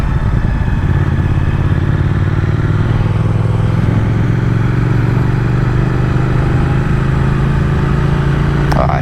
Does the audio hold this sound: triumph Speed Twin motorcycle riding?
yes